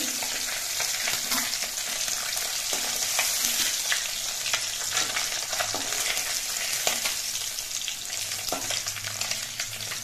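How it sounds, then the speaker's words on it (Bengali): Khoyra fish fry in hot oil in a pan, a steady dense sizzle with soft crackles and occasional stirring scrapes, continuous and alone without talk. "বাকি মাছগুলো ভেজে নিচ্ছি"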